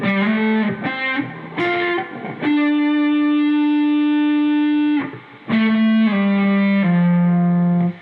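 Distorted electric guitar playing the assembled third section of the riff, sustained bent and held notes with effects, steady and loud, a long ringing note in the middle, no talking.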